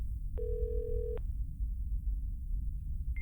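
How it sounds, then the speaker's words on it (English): A telephone ring sound effect plays in a tabletop role-playing session, a single clear electronic tone lasting under a second over a low background hum, followed by a brief short beep. "But you just keep hearing ringing."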